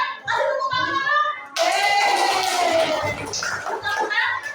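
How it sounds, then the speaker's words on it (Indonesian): Grade 3 pupils in a science lesson clap their hands together in a short burst, with a teacher's and children's voices mixed over the clapping. "Kasih tepuk tangan dong."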